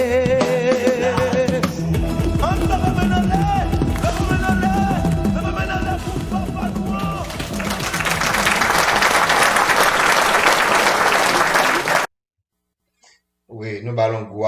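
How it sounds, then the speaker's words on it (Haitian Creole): An audience at a religious gathering breaks into loud, sustained applause, clapping densely for about twelve seconds with some voices mixed in, before the sound cuts off and talk resumes. "Oui, nous ballons gros applaudissements."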